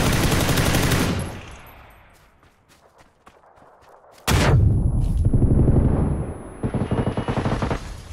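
Video game gunfire in a two-player match: a loud burst of rapid shots opens, then a quieter stretch of scattered pops, then sustained heavy firing resumes and runs to the end.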